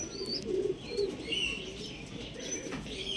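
Andhra Madras pigeons kept at a home loft coo softly in low repeated calls, with higher chirps from other birds scattered over a steady background hum.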